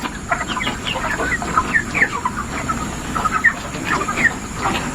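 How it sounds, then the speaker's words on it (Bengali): A flock of forty-day-old farm chickens clucks and chirps continuously at close range, with many overlapping short calls and no talking. "এই যে দেখো আমাদের মুরগি"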